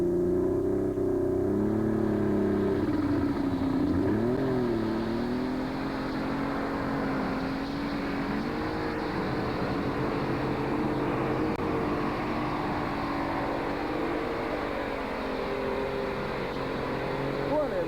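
A pulling tractor roars through a tractor pull run, its loud, sustained engine drone shifting in pitch as it labors, heard at a distance under an announcer's commentary.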